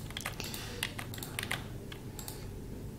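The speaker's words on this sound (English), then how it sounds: "Then over here we'll type milliseconds." Rapid typing on a computer keyboard, a run of crisp close key taps in quick bursts with short pauses, no voices.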